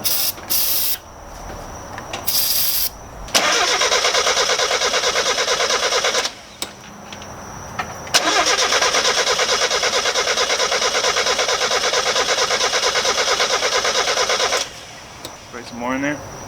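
A Mazda Miata engine cranks and catches on starter fluid after a fuel pressure fault, loud bursts of churning engine noise with brief gaps between attempts, and voices talking over it.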